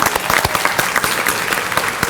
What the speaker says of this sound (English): let's give a round of applause to our bluegrass trio we had out playing